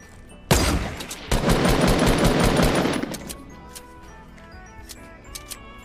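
Close, loud bursts of automatic gunfire from the Fortnite video game, a sharp opening shot then a sustained rapid volley lasting about two seconds, followed by scattered quieter clicks and shots.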